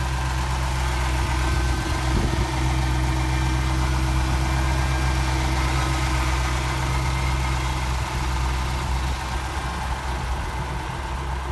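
A 1991 Chevrolet Corvette ZR-1 engine idles steadily close by, a constant low, even hum with slight vibration and a couple of faint knocks, with no talking.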